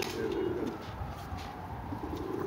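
Soft, low pigeon coos repeat in a steady murmur, close by, with a faint background hum and no talking.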